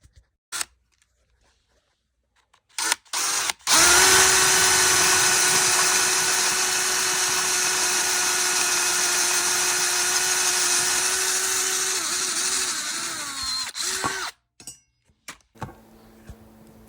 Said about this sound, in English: Alright, so we'll drill this one out, and then we're going to drill the next one, the bottom one out as well